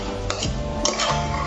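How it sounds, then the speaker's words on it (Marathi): Marinated mutton for biryani stirred and sautéed in a pot over a medium flame, giving soft scraping and clinking of a spoon against metal with a low background sizzle, close and steady. "हे 3 ते 4 मिनिटं असं चांगलं हलवून परतून घ्यायचं आहे"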